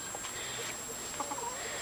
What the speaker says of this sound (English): That's Scratch, that's our barred rock. And there's Little Red, our little red hen.